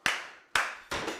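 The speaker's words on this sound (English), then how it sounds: "we're going to do 2 claps" Sharp hand claps during a clogging dance routine, three crisp, close claps with short ringing decays, evenly spaced about half a second apart.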